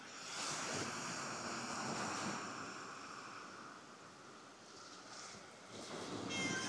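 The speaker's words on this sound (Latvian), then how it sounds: "Reku kaut kāds vilnīts vēl nāk." Waves washing onto a Baltic seashore at Jūrkalne during flounder fishing, a steady soft hiss of surf rising and falling under light wind, with no one talking.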